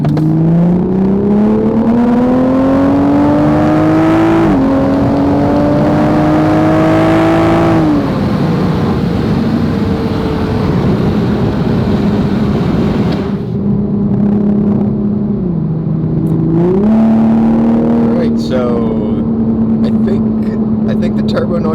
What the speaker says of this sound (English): I think the turbo noises may have gotten a little bit louder.